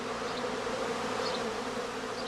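Emerging honey bees swarming from a heather skep hum in a dense, steady drone, close and continuous without pause.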